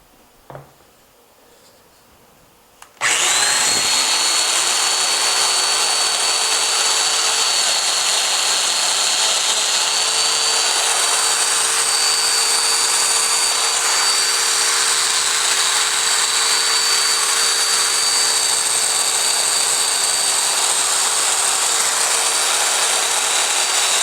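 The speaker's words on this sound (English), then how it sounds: "now for cutting the mortises in the edge of the wood" A power tool starts with a sharp onset after a few quiet seconds, then runs at a steady, loud, high-pitched whine while cutting mortises into the edge of a board for a SawStop outfeed table.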